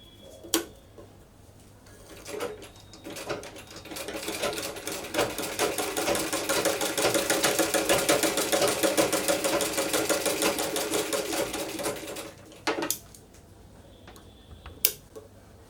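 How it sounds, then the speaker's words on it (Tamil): A sewing machine runs a fancy stitch along a baby's A-line frock, a rapid steady mechanical chatter that speeds up and holds for about ten seconds at close range, bracketed by a few clicks. "இதுக்கும் இப்படியே ஃபேன்சி ஸ்டிச் ஒன்று கொடுத்துருவோம்."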